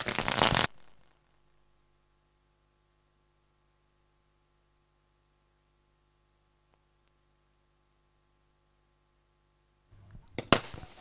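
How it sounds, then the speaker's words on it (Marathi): Short bursts of sharp crackling firecrackers at a competition open and close the stretch, separated by a long near-silent gap. "फटाक्यांची आतिषबाजी"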